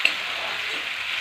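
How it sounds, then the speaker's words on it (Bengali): Onions fry in a pan with a little turmeric and salt for a mutton curry, a steady close sizzle with a faint stirring clack near the start. "পেঁয়াজটা ভাজতে থাকবে।"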